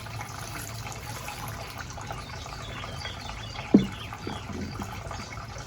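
Fertilizer-laced water pours steadily onto a potted blue spruce in a container, a soft continuous trickle and splash with one brief splat partway through and no talking.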